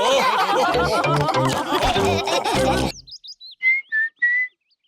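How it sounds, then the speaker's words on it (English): Cartoon whistling in a Peppa Pig episode, a few short bright whistled notes heard alone after a burst of lively voices and laughter. "Whistling."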